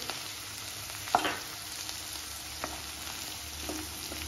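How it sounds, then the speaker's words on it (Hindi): Vegetables for a restaurant-style veg jalfrezi stir-frying on a high flame, a soft continuous sizzle with a few clinks and scrapes of a utensil against the pan, no speech. "ये सब जो हम कर रहे हैं स्टे फ्राई हाई फ्लेम पे ही कर रहे हैं"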